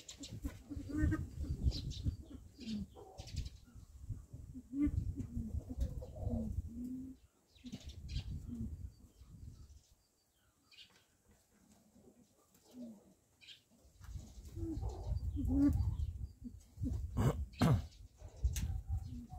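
Pigeons near a pheasant enclosure give repeated low soft coos in bursts, with short pauses and a quiet gap midway, plus faint chirps and wing flutters nearby.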